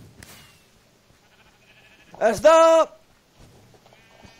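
Sheep bleat in a video minigame, one loud, wavering bleat standing out briefly amid sparse sounds, with people talking faintly around it.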